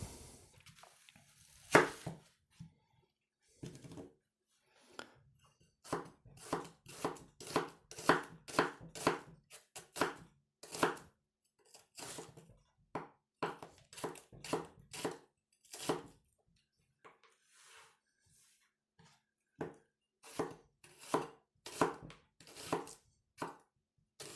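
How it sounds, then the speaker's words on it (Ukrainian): An onion is chopped with a knife on a board, sharp rapid strokes in quick bursts with brief pauses, close and clear with no voices. "Ріжемо цибулю."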